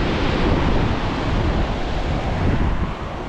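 Pacific Ocean waves roll below the Miraflores cliffs in Lima, Peru, heard as a continuous, loud, broadband surf roar mixed with gusty wind buffeting the microphone, with no voices.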